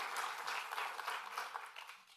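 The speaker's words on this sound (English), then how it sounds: "A big round of applause for all of you" Faint, distant applause from an audience at a cancer congress opening ceremony, a soft continuous patter of clapping that thins out toward the end.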